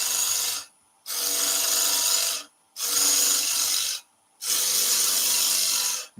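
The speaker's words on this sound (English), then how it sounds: "handle of the gouge down nice and low, and we use the bottom edge. And that's going to give us a nice shear cut." A woodturning gouge takes a shear cut with its bottom edge on a spinning lathe, giving three long, loud, hissing scrapes with short pauses between, close and alone.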